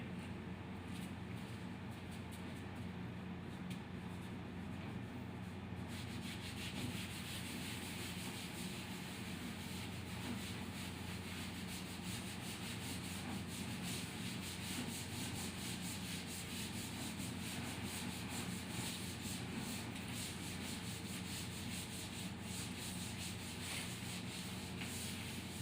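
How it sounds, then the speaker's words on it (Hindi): A steady, continuous rubbing sound as a classroom board is wiped clean, a long unbroken scrubbing texture, quiet and fairly close with no talk. "चलो इसको मैं रब कर देता हूं फिर।"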